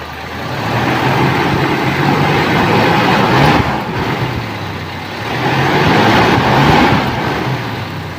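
A Toyota Kijang with a 7K engine, being checked for an emission control module fault that stops it idling, revs loud and close under the throttle, swelling in two broad surges with no talk over it.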